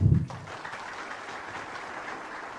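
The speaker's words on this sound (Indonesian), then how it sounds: "Dan berikan aplaus untuk Pak Iwan." Faint, steady applause from an audience at a talk, a soft distant wash of clapping after a brief louder thump at the start.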